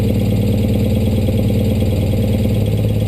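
A 1973 BMW R75/5 motorcycle engine idles steadily just after a cold start, a close, even low-pitched rhythmic putter holding constant throughout with no voices.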